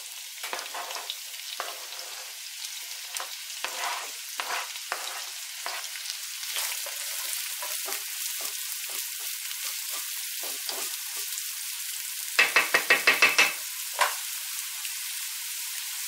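Chopped leek sizzles in a hot pan while stuffed mushrooms are prepared, a loud, continuous close frying crackle with frequent stirring scrapes and a quick rhythmic run of metallic taps near the end, without speech.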